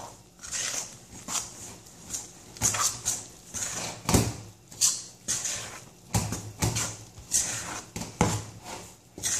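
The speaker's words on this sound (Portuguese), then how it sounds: "Misturei um pouco com a colher" A spoon works through wet focaccia dough in a bowl of water, olive oil and margarine, giving repeated close scraping, clacking and squelching strokes in an uneven rhythm with no talk.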